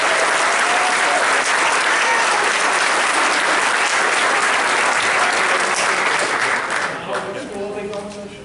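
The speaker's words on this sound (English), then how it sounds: "let's hear a big round of applause." A sustained round of applause fills a town board meeting room, dense clapping from a crowd that holds steady and then tapers off as a voice begins speaking near the end.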